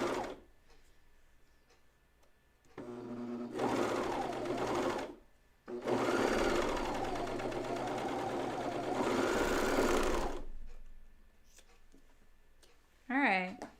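A serger sews a seam on a knit pajama top, with two long bursts of fast, loud whirring stitching separated by pauses and a shorter run at the start, and someone speaking in the quieter gaps.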